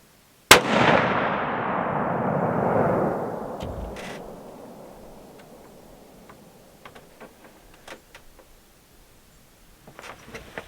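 A single sharp .243 rifle shot cracks out loud at an outdoor target range, its report rolling away in a long fading echo, followed by faint scattered clicks and small sounds.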